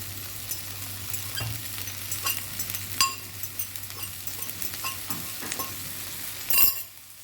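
Keema with a handful of coriander leaves is stirred in a pan, a steady faint sizzle running underneath as a spoon scrapes and clinks against the metal now and then, with a louder scrape near the end before it falls quiet.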